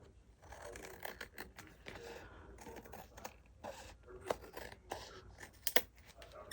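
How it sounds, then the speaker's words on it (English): Scissors trim the edge of a paper window card in a quiet room, a close series of soft snips and crisp paper rustles with a few sharper cuts near the end. "I think I might want to just trim off this edge a little more."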